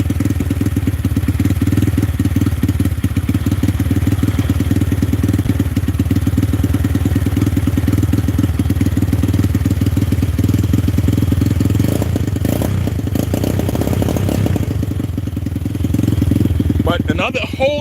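A Venom motorcycle fitted with a swapped-in Zongshen 250cc engine runs steadily at a loud, close idle with a rough clattering pulse, rising slightly toward the end, while a person talks over it.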